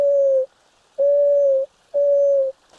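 A person imitates an unusual owl hoot: three long, steady hooting tones, each about half a second or more, with short gaps between them. The voice is close and clear against a quiet background.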